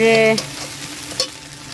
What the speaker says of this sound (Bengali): এদিকে হচ্ছে মাছ ভাজা হয়ে গেল আর এদিকে হচ্ছে তোমার এই যে চিংড়ি মাছের মাথা ভাজি